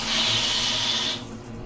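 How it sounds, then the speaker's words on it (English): Water from a hotel bathroom shower runs in a close, steady hiss for about a second before cutting off abruptly, leaving only faint room tone. "This is the shower."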